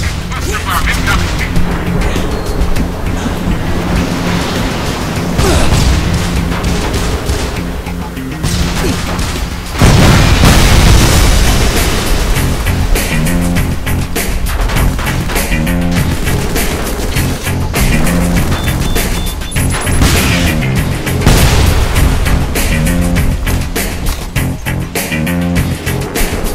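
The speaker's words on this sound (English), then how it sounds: "Cluster bomb incoming." Cluster bomb explosions in the war shooter Frontlines: Fuel of War, a dense run of loud booms and crashing blasts layered over continuous battle noise, with a sharp heavy hit about midway and voices talking over parts of it.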